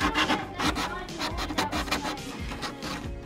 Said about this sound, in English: Now we're going to take a sander and sand over the entire desk,